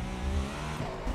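Acura GTP prototype race car engine in the iRacing sim, a steady low droning roar sustained at close range with slight revving shifts, no voices.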